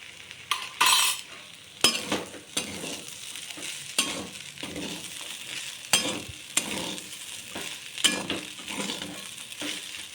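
Eggs stirred into poha frying in a pan, with steady scraping and clinking of a utensil against the metal, a few sharp taps, and a soft sizzle running underneath throughout.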